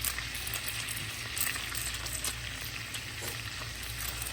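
Butter browning in a hot pan, a loud steady close sizzle and crackle with a spoon stirring through it, no talk.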